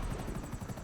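A helicopter in GTA Online whirs with a steady, pulsing rotor thump, loud and close and continuous, with no voices.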